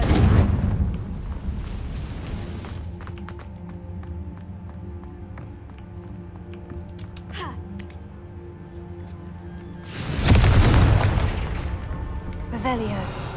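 In Hogwarts Legacy, two Confringo blasting spells land: a loud booming burst at the start, then quieter game sounds, then a second heavy blast near the end that rumbles out.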